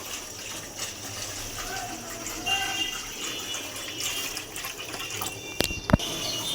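Water pours and splashes into a container to soak uncleaned fish, koi, shing and taki, a close running gush with a few sharp knocks near the end.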